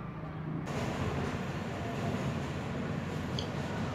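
An elevated metro train on the Coney Island line in New York rumbles steadily from inside the car, a continuous dense roar of wheels and motion with a faint brief squeal near the end.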